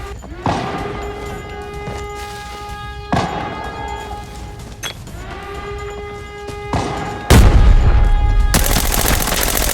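An M9A3 pistol fires in the video game Arena Breakout: four loud, evenly spaced shots with ringing metallic tails, then a sudden burst of dense noise.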